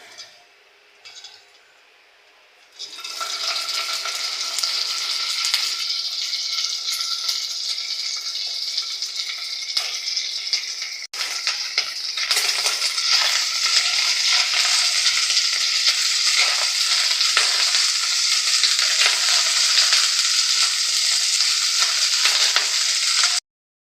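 Dried loitta fish pieces fry in mustard oil, starting after a quiet few seconds with a sudden burst into loud, steady hissing sizzle that holds nearly unbroken to the end, close up.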